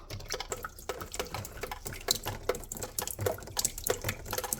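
Water leaking through a ceiling during heavy rain and snow, falling in quick, irregular drips and splashes into a flooded room, close and continuous.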